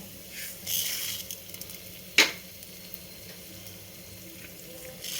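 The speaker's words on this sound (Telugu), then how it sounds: "నూనె కాగింది కాబట్టి చెండపప్పు వేసాను" Chana dal, urad dal and mustard seeds fry in hot oil for a ridge gourd and tomato curry, giving a quiet, steady sizzle broken by one sharp crackling pop.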